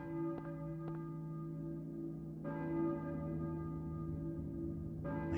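Deep church bell tolls in the video game Silent Hill, long sustained ringing tones, a few struck hits layered over a low droning background.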